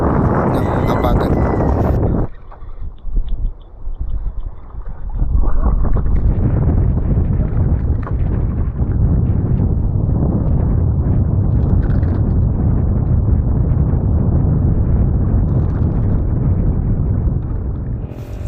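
Strong southwest monsoon wind on an island roars steadily against the microphone, a dense, rumbling buffeting that drops briefly, then surges back and holds loud throughout.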